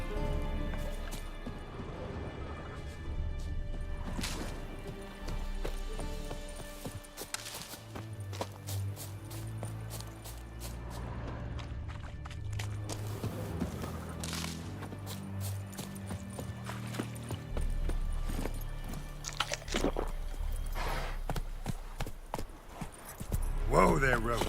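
Roach, Geralt's horse in The Witcher 3, trots along with steady rhythmic clip-clop hoofbeats over a continuous musical score, with occasional talk passing over the hooves.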